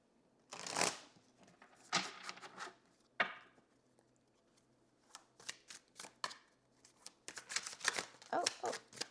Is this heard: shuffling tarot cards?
yes